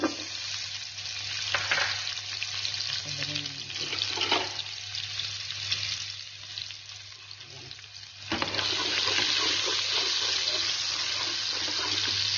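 Onions sizzle in a frying pan with a steady hiss that thickens and grows louder partway through. Occasional clinks and stirring sounds come through, with no talking.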